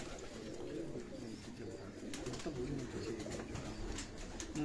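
Pigeons coo low and close, with soft repeated murmurs, faint flutters and a few clicks over a steady background hum.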